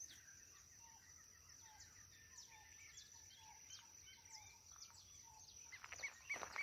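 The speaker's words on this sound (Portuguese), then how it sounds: "É som de siriema" Distant red-legged seriemas calling in the background, a series of short falling cries repeating with a steady rhythm, faint against a quiet outdoor ambience with chirps and insects.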